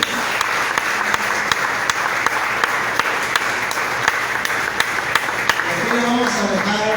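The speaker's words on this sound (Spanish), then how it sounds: "Vamos a dar un fuerte aplauso a Cristo." A church congregation breaks into loud, sustained applause, a dense wash of clapping with some sharper claps standing out, and voices rising under it toward the end.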